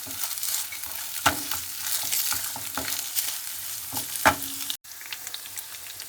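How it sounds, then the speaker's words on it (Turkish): Minced meat frying in olive oil for a yogurt pasta dish, a continuous close sizzle broken by occasional spoon clinks and scrapes as it is stirred, with a brief dropout near the end and no talking. "Şimdi zeytinyağı ilave ederek biraz da zeytinyağıyla kavrulması için ara sıra karıştırıyoruz kıymamızı"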